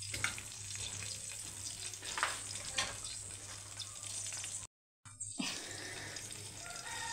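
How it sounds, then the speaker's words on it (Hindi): An egg fries in a pan with a steady, close sizzle throughout, broken by a brief moment of silence before the sizzling resumes. "ज़रा मेहनत लगती है फ्राई अंडे ते, क्योंकि उन्होंने अच्छी लुक ते अच्छा शेप देने वास्ते अंडे नूं ऐसे तरीके दे नाल बनाईदा।"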